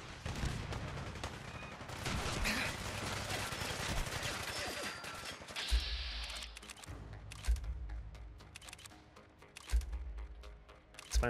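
Automated turret firing in Fallout 4, rapid bursts of gunshots and heavy impact thuds in a busy firefight, with clusters of shots and a few louder booms.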